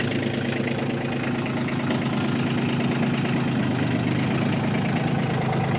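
A Kioti CK20S compact tractor with a backhoe idles in neutral with the parking brake set. Its steady, slightly knocking diesel rumble runs close and even for the whole stretch, with no talk over it.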